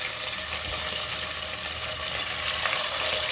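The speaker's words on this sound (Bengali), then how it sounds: "কাতলা মাছের আমি কোরমা বানাবো, তো এই জন্যই মাছটা এখন একটু ভেজে নিচ্ছি।" Pieces of catla fish fry in a pan, a steady, close hiss and crackle of hot oil that holds constant throughout with no talking.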